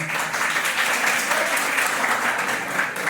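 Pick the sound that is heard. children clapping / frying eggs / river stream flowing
children clapping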